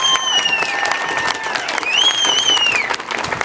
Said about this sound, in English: join me in a round of applause for our Vietnam veterans that are here